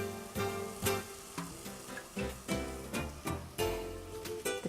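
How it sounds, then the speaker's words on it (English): Risotto rice being stirred in a pot, with a spoon scraping and swishing through the grains in repeated rhythmic strokes over a soft sizzle, close and fairly clear. "Now I'm going to start stirring."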